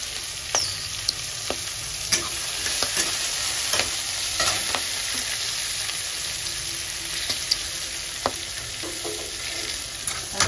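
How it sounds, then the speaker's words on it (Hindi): Peas fry in a pan with cumin seeds, giving a steady close sizzle broken by occasional sharp clicks and scrapes of stirring, with no voices. "ये मैंने जीरा के बाद मटर डाल दिए।"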